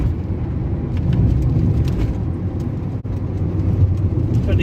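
Toyota Yaris T Sport driving along a poorly surfaced road, with a loud steady engine drone and road rumble from inside the cabin and a brief dip around a gear change.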